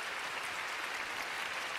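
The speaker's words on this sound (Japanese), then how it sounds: "大きな拍手が送られてます。" Steady, fairly distant applause from an arena audience after a figure skating exhibition program, an even wash of clapping with no voices over it.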